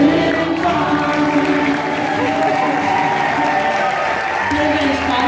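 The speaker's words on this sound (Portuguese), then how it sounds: "a menina Fátima, uma salva de palmas" An audience applauding fado singer Fátima at a festive gathering, with sustained dense clapping and some crowd noise filling the whole stretch at close range, with voices mixed in.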